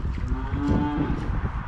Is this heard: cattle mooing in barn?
yes